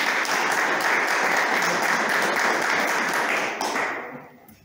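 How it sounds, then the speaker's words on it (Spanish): Audience at a tourism corridor event in Chalco gives a strong round of applause, a steady dense patter of many hands that holds evenly and then tapers off in the last second. "También pido un fuerte aplauso para ella."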